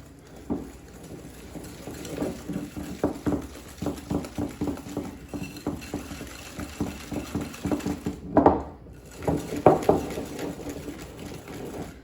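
A whisk beats sugar and egg yolks for a banana cream pie against a bowl, giving quick, close rhythmic clacks and scrapes that repeat throughout.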